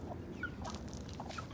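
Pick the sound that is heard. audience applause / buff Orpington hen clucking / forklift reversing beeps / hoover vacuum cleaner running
buff Orpington hen clucking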